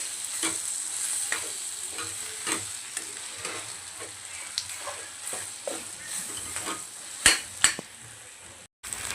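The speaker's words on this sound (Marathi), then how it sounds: "छान असं आपण परतून घेऊया" Mutton pieces, Hyderabadi boti fry, sizzling in a pan while being stirred, a continuous close frying hiss with repeated spatula scrapes and knocks against the metal, a couple of louder clanks near the end, no voices.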